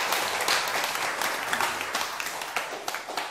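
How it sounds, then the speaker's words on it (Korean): A lecture audience applauds at a Buddhist teaching session, a steady, dense round of clapping filling the room for several seconds without pause. "박수 한번 부탁드립니다"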